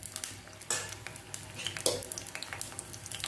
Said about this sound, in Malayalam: ഞങ്ങളുടെ വള്ളുവനാട് മുരിങ്ങക്കറി ഉള്ളി അരിഞ്ഞിട്ടാണ് വറുത്തിട